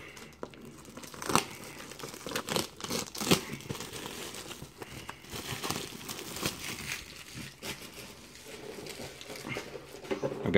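A mail package box is cut open and its packing handled during an unboxing, with intermittent crinkling, tearing and scraping of cardboard and plastic at close range, faint and irregular.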